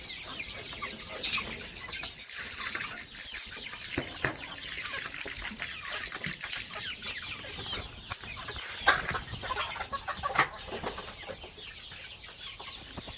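Free-range country chickens and roosters cluck softly in a farmyard, scattered calls over a constant background hiss, with no one talking.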